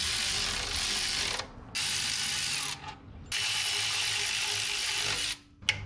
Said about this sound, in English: Like swapping out our starter bolts.